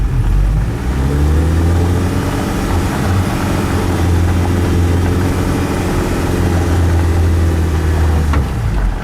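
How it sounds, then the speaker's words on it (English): A Suzuki Samurai with a Rock Block dual transfer case in low range crawls along in first gear, its engine humming at a steady low drone for several seconds, close and loud, with no talking. "We'll go ahead and do a run in first gear with that."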